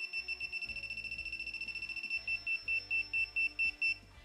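A metal detector's handheld pinpointer probe beeps at a high pitch, quick pulses at first that slow and lengthen into spaced tones, clear and fairly close.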